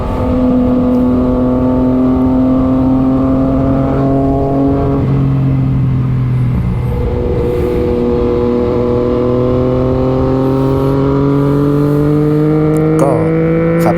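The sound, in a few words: Yamaha MT-09 motorcycle engine while riding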